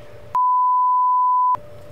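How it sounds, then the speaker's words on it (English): A censor beep covering a name during a talk show episode at the Palace Theater: one loud, steady pure tone lasting just over a second, cutting in abruptly between stretches of quiet room sound. "Sorry, beep that one too."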